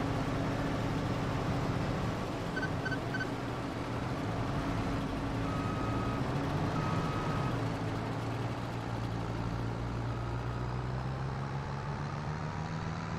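A bulldozer in Farming Simulator 22 reverses with a short series of evenly spaced warning beeps over a steady, low diesel engine drone that runs throughout.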